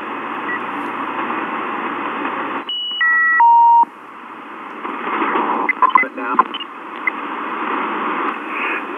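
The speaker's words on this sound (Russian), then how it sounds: "Первый ясный сигнал, чистый, немножко на одну палочку побольше." A homemade shortwave receiver with an AliExpress frequency synthesizer hisses with radio static, cut by a few clean electronic beep tones, then a clearer warbling signal fades in over the noise.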